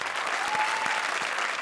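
Audience applause for a comedy stage act, steady and dense clapping throughout at moderate volume, with a faint voice briefly heard over it.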